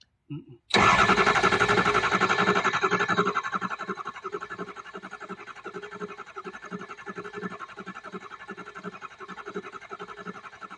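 A Ford F350 diesel engine cranks on a jump start, a loud burst of starter grinding that settles into a steady rhythmic chugging for several seconds, close by with no talk.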